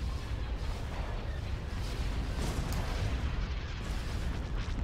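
Explosions as the main shipyard is destroyed in a Star Wars Republic space strategy game, a dense, continuous low rumble of booms and blasts at a steady loudness with no talk.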